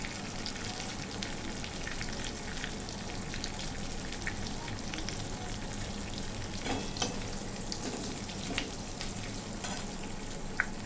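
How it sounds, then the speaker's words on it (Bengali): Cumin seeds fry in hot oil for a tempering while a prawn malai curry is cooked. The sizzle is dense and continuous at close range, with crackling pops spread through it and no voices over it. "আর সামান্য জিরে দিয়ে দিলাম। ফোড়নটা একটু ভেজে নেব।"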